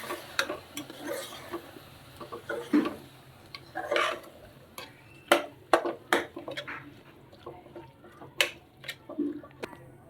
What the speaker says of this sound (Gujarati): હવે આપણે આ રીંગણાને મેથી એડ કરી દઈશું. હવે આપણે સારી રીતે મિક્સ કરી લઈશું.